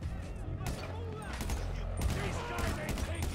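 Rapid gunfire from the video game GTA V rattles in dense overlapping bursts over a continuous game soundscape, with a voice speaking underneath.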